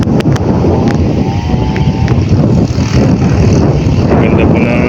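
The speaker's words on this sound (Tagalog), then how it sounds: "Napakalakas po ng hangin para po tayong bumabiyahe, no?" Strong wind buffets the microphone outdoors in a constant loud low rumble, with a faint engine-like drone and a few brief clicks over it.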